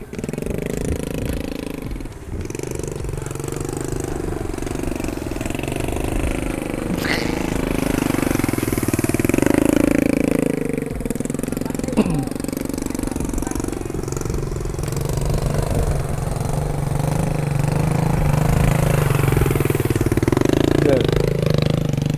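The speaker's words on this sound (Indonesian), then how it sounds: "cara mengaduk padi di jemur ini udah nggak pakai orang ya? Iya, pakai motor." A motorbike engine runs steadily as it stirs paddy drying at a rice mill in South Sulawesi, a loud, rough mid-pitched drone that rises and falls slightly, with voices talking over it.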